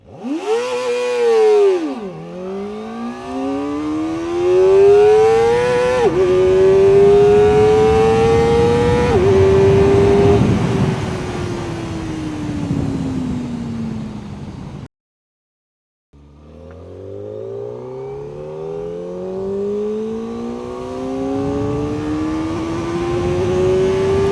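Kawasaki ZX-4RR four-cylinder liquid-cooled sport bike revving very high and accelerating hard through several gears, a loud, close, shrieking engine note climbing between shifts, a brief silence, then another rising pull, with no talk.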